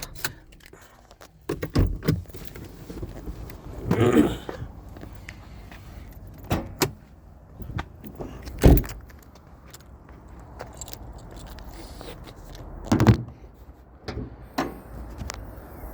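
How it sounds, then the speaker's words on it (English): Hood being opened on a 2018 Toyota 4Runner: a few sharp metallic clicks and clunks from the latch and hood, spread across a quiet outdoor scene with no talking. "Let's pop the hood."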